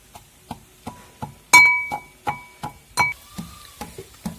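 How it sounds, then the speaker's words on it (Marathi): Garlic and cumin are pounded in a mortar and pestle for a village-style lentil chutney. About a dozen sharp, rhythmic strikes land close up, and a couple of them ring out with a bright metallic clink. "खरबत्यामध्ये लसूण जिरे मी टाकलेलं आहे आपलं एकदम बारीक कुटून घ्यायचंय"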